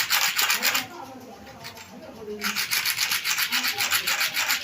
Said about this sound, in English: You turn it, you use it to rub the ground, to rub the floor. That's cement floor.